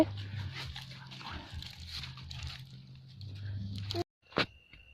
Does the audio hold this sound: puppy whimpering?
yes